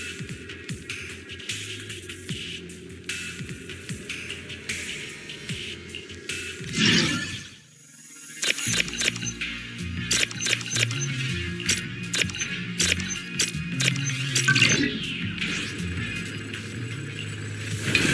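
Dense mechanical whirring and clanking from machinery in the video game Zenless Zone Zero, steady and busy, with a brief lull midway before the humming and rattling resume.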